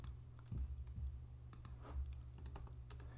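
A command being typed on a computer keyboard into PowerShell: a quiet, sparse run of soft keystroke clicks over faint background hum.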